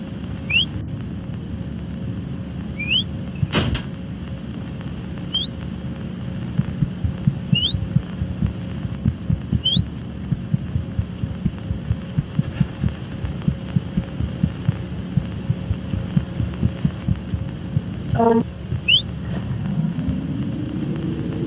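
Steady heartbeat thumps in the horror video game Apeirophobia, a regular low pulse running beneath a droning hum, joined by short high chirps and a rumbling swell near the end.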